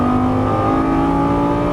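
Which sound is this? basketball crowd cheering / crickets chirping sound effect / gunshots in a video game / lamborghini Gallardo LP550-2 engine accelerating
lamborghini Gallardo LP550-2 engine accelerating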